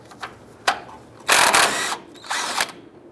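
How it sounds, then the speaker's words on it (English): A power tool with a 21mm socket spins the nut off an outer tie rod end on a 2004-2012 Chevy Colorado, loud close whirring bursts in two long runs with short blips between. "Using a 21mm socket, we're going to go ahead and remove the nut off of the tie rod end here."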